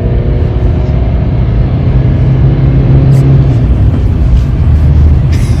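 Renault Twingo II, an everyday small hatchback, pulling hard at full throttle: a dense, steady low engine drone and road rumble from inside the cabin, loud and unbroken.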